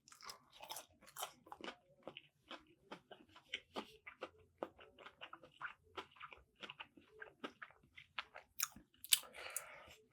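Someone chews crunchy KFC chicken tenders and a fried chicken sandwich up close, with a steady run of crisp bites and crunches in a quiet room.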